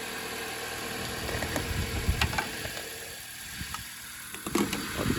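A 2012 Dodge Avenger 2.4 engine idles steadily nearby, a continuous mechanical hum with light ticking and clatter, freshly jump-started after a dead battery during an alternator replacement.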